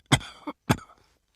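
Two short, close coughs separated by a brief pause, each a harsh burst with a little throaty tail.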